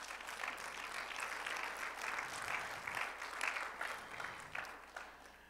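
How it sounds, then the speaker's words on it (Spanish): A church congregation claps together in a steady, even patter that sounds a little distant, with faint voices mixed in. "Denle un fuerte aplauso pues al Señor."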